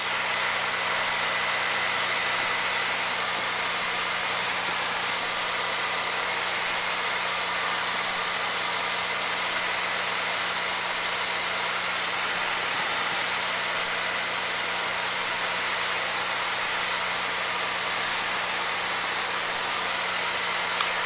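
Light training aircraft engine droning steadily during a climb at around 60 knots, a loud, continuous broadband roar with a constant tonal hum, heard from inside the cockpit with no speech.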